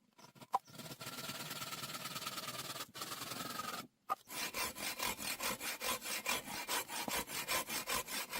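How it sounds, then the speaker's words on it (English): A hand saw cuts through a log of raw forest timber in the woods, first in long smooth strokes, then after a brief pause in quick, regular rasping back-and-forth strokes, close and clear. "The sharp teeth tear through the cross grain, sending heavy sawdust flying onto the forest floor."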